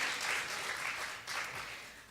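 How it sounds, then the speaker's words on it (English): A church congregation gives a brief, soft round of applause during a Sunday service, a steady faint patter of clapping for about two seconds. "So give her a round of applause."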